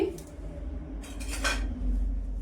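A fork mashes boiled potato in a dish, producing several quick clinks and scrapes of metal against the plate over low background hum.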